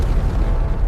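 A rocket engine ignites with a heavy, deep rumbling roar that fills the short moment, loud and continuous with no talk over it.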